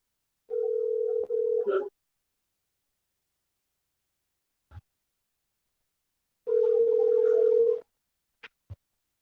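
A telephone rings out on a regular phone line while calling someone, two steady tone bursts about five seconds apart, separated by silence and a few short clicks.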